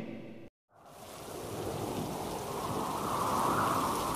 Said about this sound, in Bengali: আকাশ ভেঙে মুষলধারে বৃষ্টি নামে